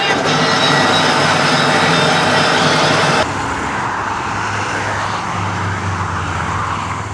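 An old Jurassic Park-themed RV engine runs with a loud, steady rumble, then the sound drops abruptly partway through and continues at a lower, quieter hum.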